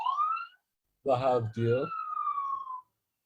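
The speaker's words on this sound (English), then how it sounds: "It's an ambulance." An ambulance siren wails from a vehicle that has pulled up across a street, its sweeping tone rising and falling at a moderate distance, with a brief stretch of someone speaking over it partway through.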